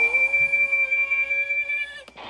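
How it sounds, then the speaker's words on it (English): A toy train engine blows its whistle loudly, a single sustained bright tone lasting about two seconds before a short clatter, heard alone without talk. "He rolled up behind Harry and Bert, took an extra big puff and blew as loudly as he could"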